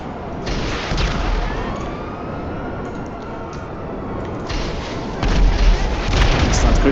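Sticky bombs exploding in GTA on PC, heavy booming blasts and thuds over a continuous rumble, with louder impacts near the start and a big burst toward the end.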